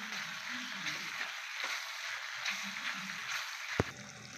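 A tempering for bisi bele bath crackles softly in a pan as a faint, steady sizzle, with one sharp clink near the end.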